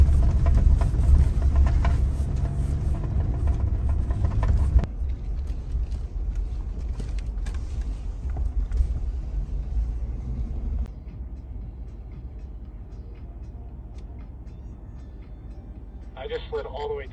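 A Ford Bronco First Edition crawls off-road through snow in 4 high with the rear diff locked and sway bars disconnected, its engine a steady low rumble that drops in intensity partway through, with voices talking over it.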